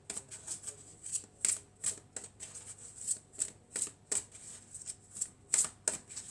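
A deck of angel and crystal oracle cards is shuffled by hand in a quiet room, giving a string of crisp, papery riffles and flicks in an uneven rhythm, close and soft with brief pauses between bursts.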